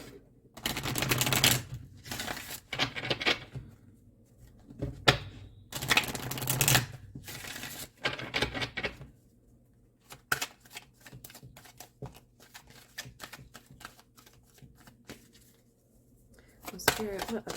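Tarot cards are shuffled and pulled in a reading, with bursts of rapid riffling and flicking snaps, some loud and close, under and between stretches of a person talking.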